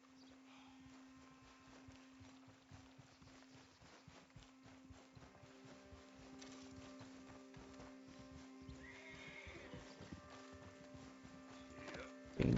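In Red Dead Redemption 2, a horse's hooves clop steadily over a low game hum, with a sudden loud burst at the very end.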